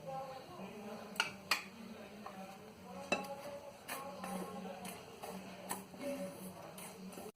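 Ghee stirred into flour in a bowl for Goan kormolas dough, with soft scraping and mixing sounds broken by a few sharp clinks of a spoon against the bowl.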